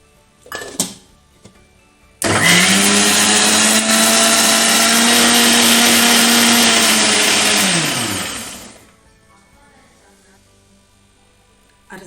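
A blender grinds mango chutney in a loud, steady whir lasting about six seconds, starting abruptly and winding down smoothly, with faint kitchen sounds before and after.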